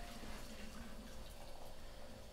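Water pours quietly and steadily into a vessel while pu-erh tea is brewed, a faint continuous trickle lasting a couple of seconds.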